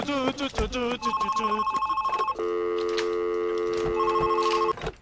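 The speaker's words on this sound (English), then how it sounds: "why is there a phone ringing?" Electronic phone ringtone in the heist video game Monaco, steady repeating tonal rings that continue for several seconds while voices talk over it.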